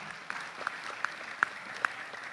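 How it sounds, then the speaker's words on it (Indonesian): Applause for speakers at a biodiversity week talk session, a soft diffuse patter of clapping with a few louder individual claps standing out at irregular intervals, moderately distant. "Berikan tepuk tangan yang paling meriah kepada narasumber kita."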